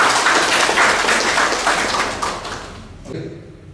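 An audience claps during a governor's visit to the Puskesmas Oesao health centre in NTT, a dense burst of applause that holds steady for about three seconds and then tapers off, with a voice faintly returning at the end.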